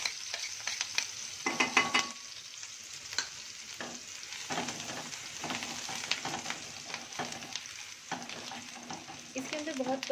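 Finely chopped green chilli and ginger frying in a pan for sabudana khichadi, a continuous sizzle broken by repeated scraping and clinking strokes of a spoon, close and fairly quiet.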